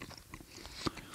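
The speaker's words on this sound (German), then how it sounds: "Wenn du das kaust und diesen Saft so runtersaugst" Someone bites and chews a sour Japanese candy, giving soft close mouth noises with one sharp crunch near the end, faint and alone.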